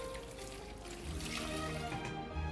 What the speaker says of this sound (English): He mixes the donker flour with fresh water.